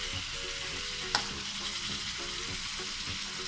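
Chicken pieces frying in a pan for adobo, an even crackling sizzle with small pops and one brief sharp click, heard close and steady with no talking.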